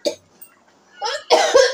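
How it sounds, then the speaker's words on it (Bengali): A person with a cold and a scratchy throat gives a short fit of coughs, one sharp cough followed by a quick cluster of louder, harsher ones, close up with no talk. "কাশি উঠছে কি জানে বুঝতে পারছি না"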